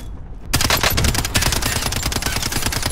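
Rapid automatic fire from a Striker 45 in Warzone, starting after a brief quiet moment, then a loud continuous stream of closely spaced shots hammering without pause to the end.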